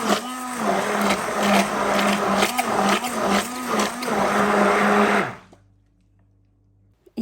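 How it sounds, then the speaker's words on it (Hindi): A mixer grinder runs at steady speed for about five seconds, grinding half a batch of chilled kheer, with a loud pulsing whir that then cuts off into near silence. "बाकी का जो हाफ पोर्शन है इसे हल्का सा ग्राइंड कर लेते हैं"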